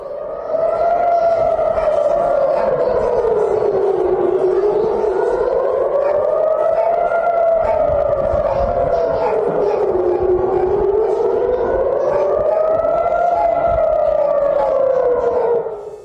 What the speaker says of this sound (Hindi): लगातार हमलों के बाद बचने लगे सायरन